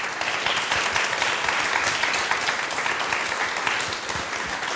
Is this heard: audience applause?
yes